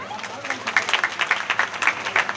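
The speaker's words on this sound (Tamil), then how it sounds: "கைதட்டுங்க." An audience at an engineering college event applauds, with a quick, dense patter of many hands clapping at steady loudness, close and lively throughout.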